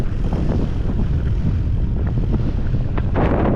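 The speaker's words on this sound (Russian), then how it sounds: "какой ветер." Strong wind buffets the microphone in a loud, continuous low roar with gusty swells, rough and close, no voices over it.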